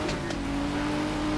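An Aston Martin Vulcan held on the e-brake in the racing game The Crew 2, its engine droning loud and steady at high revs with a constant, close mechanical roar.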